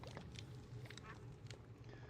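Ducks quack from a farm area in the Minecraft modpack TerraFirmaCraft, with several short calls repeating over a steady low game hum for about two seconds.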